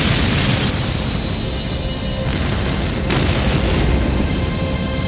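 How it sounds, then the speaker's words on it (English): A large fuel canister explodes in a huge, sustained roaring blast with rumbling, crackling noise and shattering windows that fills the whole stretch, loud and dense. "Then the fire reaches a large fuel canister. Windows are shattered and dozens of cars destroyed in the mammoth explosion."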